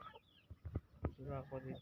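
A backyard rooster of the ayam ketawa breed calls in short, clucking bursts followed by a longer, rolling vocalization, close and fairly quiet, with no talking over it.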